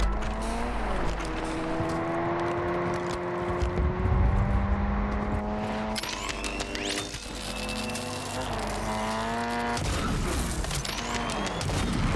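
Car engine in the Warzone video game, loud and close, revving and shifting through rising and falling pitches under continuous game effects, with brief chatter from players.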